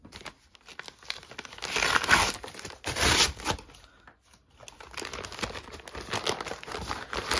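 A plastic gadget bag is torn open and crinkled by hand, with bursts of crumpling and ripping close up, a loud stretch near the start, a brief pause, then more rustling handling.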